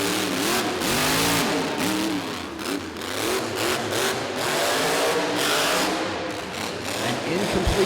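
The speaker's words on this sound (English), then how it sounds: "Really trying to attack the track as the RPMs just sing." Monster truck engine revving hard on an arena track during a season-finale competition run, the loud RPMs rising and falling continuously with an announcer talking over it.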